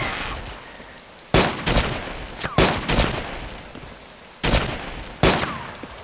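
Gunfire in the video game DayZ: several loud sharp gunshots, singly and in quick pairs, spread across a few seconds over a faint background.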